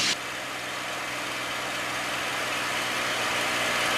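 P-51 Mustang engine pulled back to reduced throttle, a steady, loud, even drone with a broad roar that holds constant after a brief louder burst at the start, with no talk over it.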